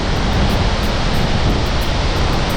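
Noori Nag waterfall pours down with water drops crashing and scattering into spray, a loud, dense, unbroken roar heard close up with no voices.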